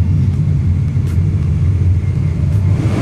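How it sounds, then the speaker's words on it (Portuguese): Jet airliner engines roar on the runway before takeoff, a constant loud low rumble heard from inside the cabin with no break. "Aquele avião vai decolar e depois dele é nós."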